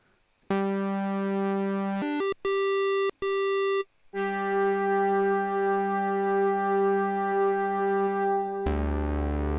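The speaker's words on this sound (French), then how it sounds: "j'ai ma basse d'un côté et mon pad de l'autre" A bitimbral analog synthesizer plays a bass preset and a pad preset together: sustained, buzzy harmonic tones held steadily, broken by a few brief stops and restarts, ending on a lower, fuller note. No one speaks.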